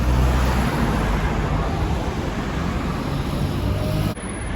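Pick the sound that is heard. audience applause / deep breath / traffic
traffic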